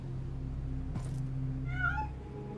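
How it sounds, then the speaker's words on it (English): A cat meows once in the Sinking horror game, set aboard a deep-sea submarine: a short rising-falling call over a steady low mechanical hum, with a brief thud just before. "Cat, meow."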